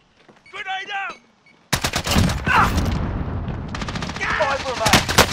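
Gunfire in Call of Duty Warzone on Rebirth Island: loud bursts of automatic weapon fire crackle in rapid strings after a brief spoken callout, continuing in dense volleys with more shots near the end.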